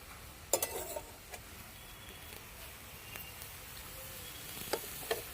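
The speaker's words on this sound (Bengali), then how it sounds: "এইভাবে নেড়ে নেড়ে কপিটাটিটা চাচ্ছি করে নিতে হবে" Cauliflower stem curry stirred in a pan, a faint low sizzle with sparse spoon knocks and scrapes against the pan, quiet and close with no talk.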